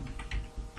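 Quick keystrokes on a computer keyboard, typed while entering console output code, a few close taps in a short burst.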